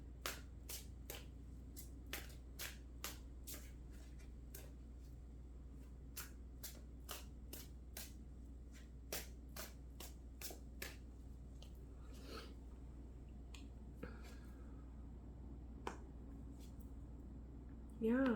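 Tarot cards are flipped and snapped down one after another in a quick, steady rhythm of crisp close flicks over a low constant hum, slowing and growing sparser toward the end.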